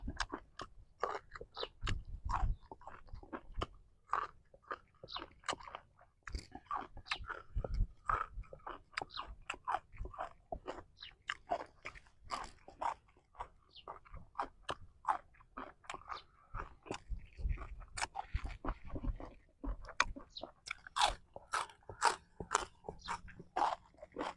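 Loud, close crunchy chewing of a Thai pounded papaya-style salad with wide rice noodles, field crab and winged beans, a steady run of crisp bites and mastication over about twenty seconds with no talking.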